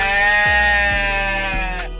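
Spring event dinosaur call in the Roblox game Dinosaur Simulator, a loud, steady bleating cry like a sheep, with soft bell jingles underneath.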